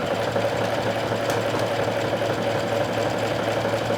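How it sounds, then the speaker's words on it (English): A sewing machine runs steadily while sewing a wide overcasting stitch on fabric, giving a continuous fast mechanical whirring and clatter with no pauses. "this is an overcasting stitch that I am doing with 5 widths, 3 length, and 4 tension"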